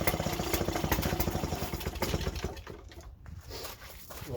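A 1950s Qualcast 16 hand-cranked mower engine runs with a rapid, rattling beat close by. It falters and fades partway through, then picks up again.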